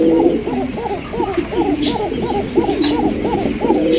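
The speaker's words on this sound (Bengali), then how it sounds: "এখানে রয়েছে বিশাল বড় সাইজে এক্সিবিশন কবুতর" Large exhibition pigeons coo at a pigeon market, a rapid repeated run of throaty rolling coos overlapping one another, close and fairly loud over a busy background murmur.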